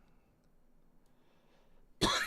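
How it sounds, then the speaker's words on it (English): A single sharp cough bursts out loudly near the end after a stretch of near silence. "Goodness, I cannot stop coughing."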